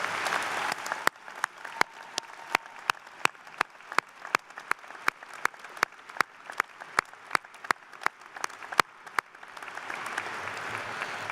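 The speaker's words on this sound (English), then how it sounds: "Let's give a round of applause to those people sitting around us and honor them for their tremendous service to all of us." A university commencement crowd applauds to honor those seated around them, a broad steady clapping wash punctuated by sharp, evenly spaced claps that keep a regular beat for around ten seconds.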